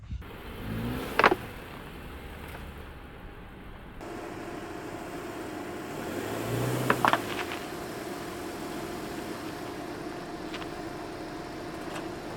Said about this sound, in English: you have to stack two Rhino ramps on opposite corners and drive up it